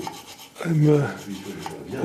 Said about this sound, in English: grind the valve in